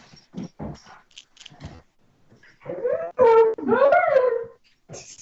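A dog barks in short yips and whimpers, then breaks into a loud, drawn-out wavering howl, close and indoors.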